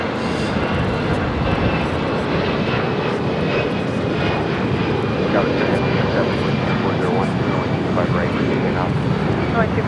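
Airbus A340 and A380 jet airliners at LAX give a steady, loud engine roar that fills the whole stretch without a break, with a voice talking over it.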